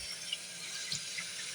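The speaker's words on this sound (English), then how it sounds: "There's no hot water coming out from this tap." Water runs from a hot water tap that gives no hot water, a steady faint hiss of flow with a couple of small splashes.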